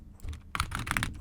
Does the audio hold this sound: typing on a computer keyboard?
yes